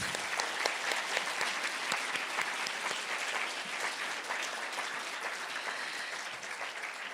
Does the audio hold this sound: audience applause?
yes